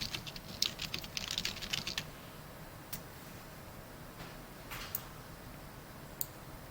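Keystrokes on a computer keyboard during chart editing, a quick burst of clicky taps early on, then a few isolated keypresses spaced apart over a low steady background hum.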